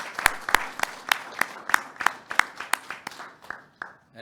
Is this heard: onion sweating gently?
no